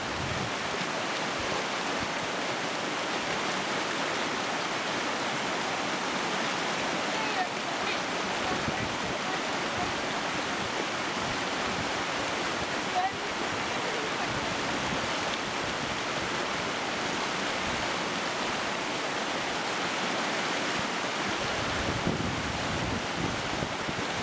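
A lahar mudflow surges down the Belham Valley on Montserrat, its sediment-rich water forming pulsing standing waves. The rush makes a loud, unbroken roar that holds steady for the whole stretch, like heavy surf or a torrent, with no pauses.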